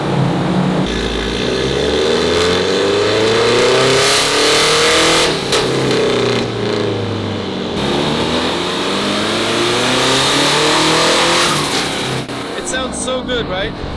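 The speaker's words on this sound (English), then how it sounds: "We're going to start the car again, and we're going to run it again" A turbocharged K24 Honda Civic engine revs hard on a dyno and climbs through rising pitches, pausing and surging again, loud and close, with a brief drop near the end.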